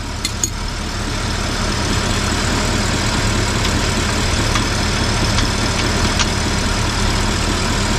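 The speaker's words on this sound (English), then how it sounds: "With the engine running, everything's got to be nice and hot." A car engine idles steadily while transmission fluid is checked, a loud continuous low rumble filling the whole stretch, with a few faint clicks near the start and no talk.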